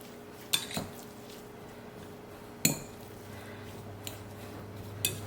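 Turkey Italian meatball mixture with garlic powder and onion powder stirred in a bowl, heard as a few sharp utensil clinks against the bowl over a quiet background.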